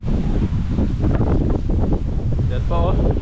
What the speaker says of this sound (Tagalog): Grabe, ang lakas po ng hangin.